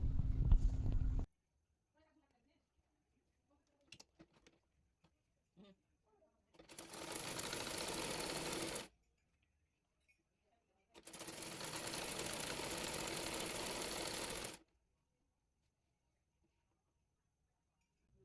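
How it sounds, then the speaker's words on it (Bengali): A sewing machine stitches elastic onto the sleeve of a baby frock in two steady runs of a few seconds each, close and fairly loud, separated by a quiet pause and a few small clicks, with a brief voice at the start. "প্রথমে রাবারটি 2 পাশ থেকে সেলাই করে নেব।"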